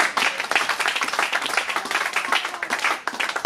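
A church congregation claps and applauds steadily and loudly throughout, dense rhythmic hand claps filling the space without pause.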